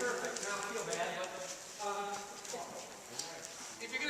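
A horse being walked on a lead, hooves clip-clopping in a steady rhythm close by, with people talking over the footfalls.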